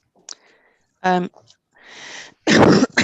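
A couple of short, harsh coughs close to the mic, bursting out loudly after a brief moment of quiet breathing.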